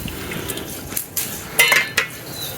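A spoon and a lid set down on a pot of rice cooking outdoors, a few clear metallic clinks and clanks near the end over quiet background.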